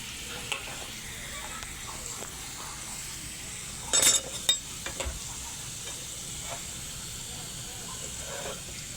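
French fries bubble in hot oil with a steady, close sizzle and hiss, stirred with a slotted metal spoon that gives occasional scrapes and a brief louder clatter.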